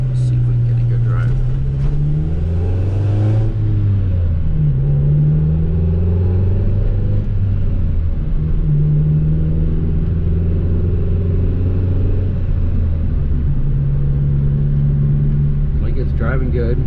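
A salvage-build Acura Integra GSR with an all-motor B18C1 engine drives in fourth gear above 2,000 RPM, its steady engine drone rising and falling in pitch, loud and close, inside the cabin.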